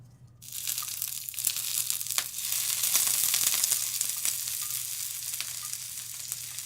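Wild greens, ramps among them, drop into hot grease in a pan and burst into a loud, close, steady sizzle with crackles and pops continuing throughout.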